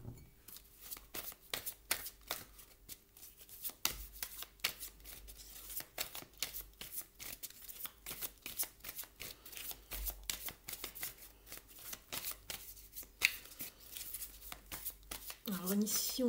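Tarot cards being shuffled by hand for a reading, a rapid, continuous riffling and flicking of cards up close, with a voice speaking quietly through it.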